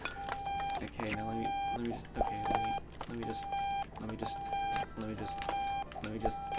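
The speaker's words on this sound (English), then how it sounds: "let's shut off that stupid alarm" An alarm in the video game Octodad beeps in repeated short, high electronic bursts in an irregular pattern, mixed with busy game sounds and voices talking.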